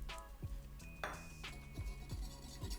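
A metal hand whisk mixing matcha in a bowl makes repeated clinking and scraping strokes against the bowl in an uneven rhythm, close and fairly quiet, with a few bright metallic rings.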